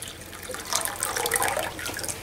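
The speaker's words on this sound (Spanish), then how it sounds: "yo aquí tengo una olla y le voy a poner 1 litro de agua" About a liter of water splashes steadily into a cooking pot while preparing cinnamon tea for a cough remedy, a continuous bright pouring stream that swells louder midway, with no talking.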